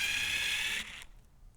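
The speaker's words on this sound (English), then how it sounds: "I am using a drill, of course, just to make things a little faster." A power drill backs screws out of the wooden crate of an HPN Signature Series 16x20 double-station pneumatic heat press, a steady close whir that stops abruptly partway through, leaving quiet room tone.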